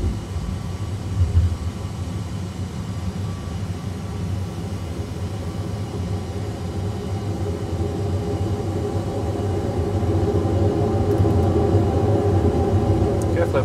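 In the cockpit of an Airbus A320 on a crosswind approach, the landing gear lowers and a steady roar of engines and airflow slowly builds into a deeper, heavier rumble while crew voices are heard.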